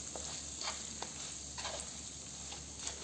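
Faint, steady sizzling of a hot oil tempering with asafoetida and curry leaves for mango pickle, with light scraping and tapping as it is stirred in the pan, and no talking.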